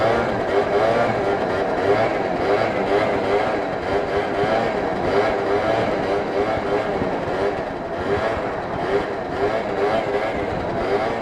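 Prebug Yamaha Zuma scooter engine running steadily through a wheelie, a continuous loud buzzing drone with rough broadband wind noise, no pauses across the stretch.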